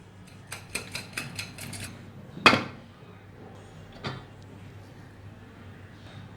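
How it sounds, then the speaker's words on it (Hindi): Boiled eggs being peeled, shells cracked against a hard kitchen surface: a quick run of sharp taps, then one loud crack and a later softer knock, close and alone with no talk. "हम अंडों को अभी छील लेंगे।"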